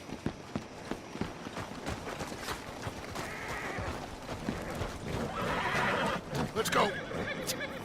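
Horses whinny and hooves clatter amid chaotic Red Dead Redemption 2 action, with someone shouting over the noise and a loud neigh near the end.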